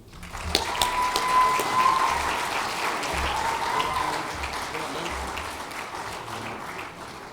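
A crowd at the ClubsACT 2024 Clubs and Community Awards night gives a full, sustained round of applause for the final award winner of the evening, dense and loud throughout.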